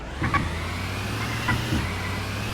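A car drives along a main road in the video game Sakura Simulator, a steady mid-pitched engine drone with a few brief mechanical clicks and whirs over the top.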